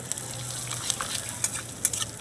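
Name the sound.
panch phoron and asafoetida frying in a hot kadai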